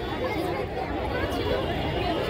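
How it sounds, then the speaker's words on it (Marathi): Dense crowd chatter at the new ISKCON temple in Kharghar, Navi Mumbai, during aarti, a steady, close hubbub of many overlapping voices with no clear pauses. "खूप गर्दी आहे"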